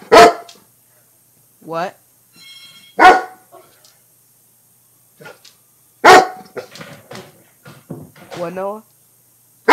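A dog barks in loud, sharp bursts spaced a few seconds apart, close to the microphone, while a person speaks briefly between the barks.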